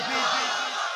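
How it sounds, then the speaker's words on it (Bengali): A large crowd at an outdoor Bangla Islamic sermon gathering shouts the takbir chant in unison, a loud, dense burst of massed voices answering together. "সবাই বলেন নারী তাকবীর"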